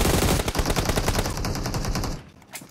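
Rapid automatic gunfire in a shooter video game, dense bursts of shots filling most of the stretch and trailing off near the end, loud and close with no talk over it.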